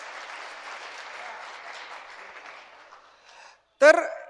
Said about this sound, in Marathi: रामराजे साहेबांचं सगळ्यांच्या वतीनं जरा मोठ्याने टाळ्या वाजवून आपण स्वागत करूया.